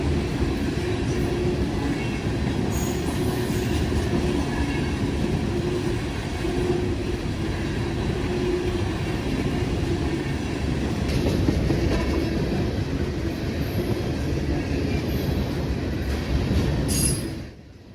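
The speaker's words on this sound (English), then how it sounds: "an as-needed empty ethanol train" An empty ethanol freight train rolls past at close range, a long continuous rumble of wagons with rhythmic wheel clatter and occasional squeal, fading slightly at the very end.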